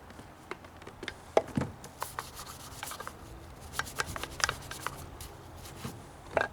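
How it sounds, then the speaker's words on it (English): A scrubby pad scours the cylinder head of a 3.5 HP Briggs & Stratton lawn mower engine, giving quiet, irregular rubbing and scratching strokes in short bursts, close up and with no voice. "I'm just giving it a quick once over, a little scrubbing."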